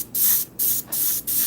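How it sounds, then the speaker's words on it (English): A spray bottle mists yellow paint onto a Claybord panel in four evenly spaced, close, airy hissing bursts, each about a third of a second, with short silent gaps between. "I guess I could spray some of that yellow right there."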